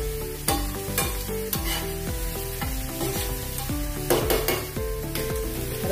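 Grated cabbage or potato cooking in a pan, with a constant sizzle and a run of sharp spatula scrapes and taps against the pan, close and steady with no talk.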